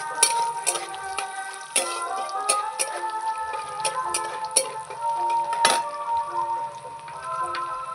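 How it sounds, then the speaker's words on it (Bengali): Cashews and raisins frying with bay leaves in hot oil, a crackling, spattering sizzle with scattered sharp pops and occasional scraping stirs, close and fairly loud without any voices. "কাজু বাদাম কিশমিশ দিয়ে দেবো। একসঙ্গে সব ভেজে নেব।"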